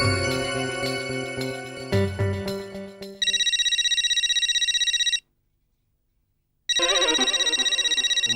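A telephone rings loudly in an indoor Indian sitcom scene. A descending chime-like tone gives way to a bright, rapidly trilling electronic ring, which pauses briefly and then starts again.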